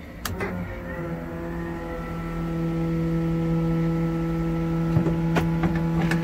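A big block Plymouth Duster engine hums with a steady, loud drone that swells after a couple of seconds, with a few sharp clicks and knocks near the start and end.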